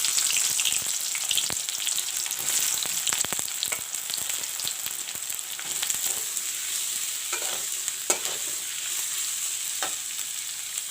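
Four sliced onions frying in mustard oil in a pan, with a steady close sizzle and intermittent crackles and light stirring clicks throughout.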